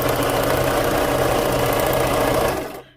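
A sewing machine runs steadily, stitching a small zigzag stitch through fabric on a journaling spot. The mechanical whir and rapid rhythmic needle chatter stay loud and close without a pause, then cut off abruptly at the very end.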